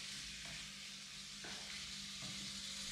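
Garlic sizzles in a pan with chicken and mushrooms in a constant close frying hiss, with a few soft stirring scrapes and no talk.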